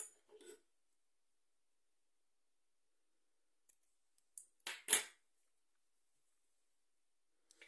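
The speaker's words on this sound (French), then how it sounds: "Je coupe à ras." Scissors snip crochet yarn close to a finished granny square, a couple of quick soft cuts heard alone and near in an otherwise quiet room.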